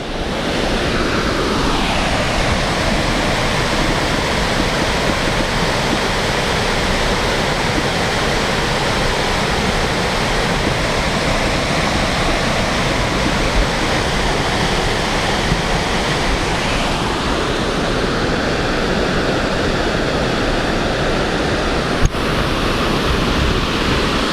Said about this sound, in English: So this is the weir at Weare Giffard.